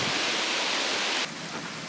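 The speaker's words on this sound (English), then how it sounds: "The rain has arrived." Heavy rain pouring down on a wooded mountain bike trail at Chewacla, a dense, steady hiss that stays loud throughout and drops slightly in level near the end.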